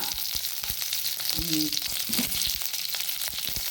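Garlic cloves and a red chilli fry in hot oil, a loud continuous close sizzle with scattered pops and crackles, while a brief voice-like tone surfaces faintly in the background.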